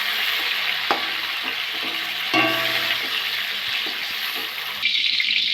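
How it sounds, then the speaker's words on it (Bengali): Pointed gourd frying in hot oil gives a loud, steady hiss and crackle, broken by a few clinks and scrapes of a utensil as the pieces are lifted out. "পটলগুলো ভেজে নিয়েছি, আমি এবার তুলে নেব।"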